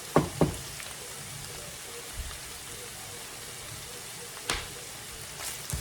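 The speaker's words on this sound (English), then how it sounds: "Now we're going to let the onions kind of cook up a little bit before we mix it up." Onions fry with two pounds of ground meat in a pan for a Mexican casserole, a soft, steady sizzle with a few sharp clatters of utensils, faint under the room's quiet background.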